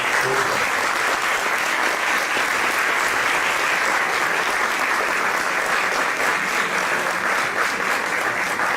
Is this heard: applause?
yes